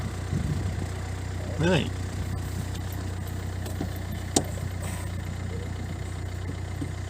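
A car engine idles steadily after start-up, a low constant hum, with people talking briefly over it and a short sharp click partway through.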